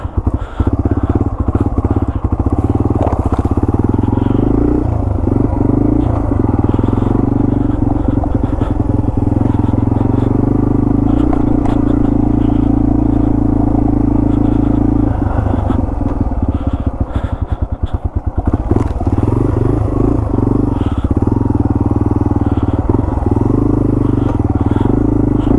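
A Yamaha TW200 motorcycle rides along a dirt road, its loud, close single-cylinder engine droning steadily with shifts in pitch as the throttle changes, plus rattling and clatter from the rough surface.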